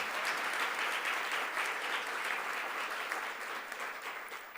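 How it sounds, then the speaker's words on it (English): An audience at a Columbus Metropolitan Club panel on Ohio's Latino community applauds a panelist, steady dense clapping filling the room at an even level before tapering slightly at the end. "Let's give a round of applause for Roland."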